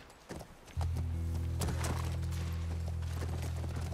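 Horse hooves clip-clop in the video game The Last of Us Part I, a series of irregular thuds heard over a steady low engine-like hum that starts abruptly and continues to the end.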